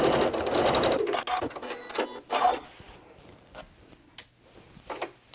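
A sewing machine stitches down a quilt facing from the corner, running in quick rattling bursts that stop and start, close and fairly loud, with a few brief pauses at the end.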